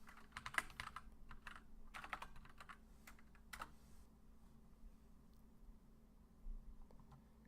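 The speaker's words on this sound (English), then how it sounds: "Type in your email." Fast bursts of clicking keystrokes on a computer keyboard, entering an email address to sign in to a cryptocurrency exchange, close and fairly quiet, with brief pauses between runs and a final isolated tap, no talk.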